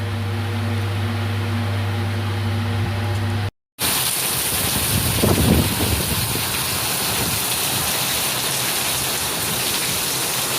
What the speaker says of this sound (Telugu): సో వర్షం చూడండి ఎట్లా పడుతుందో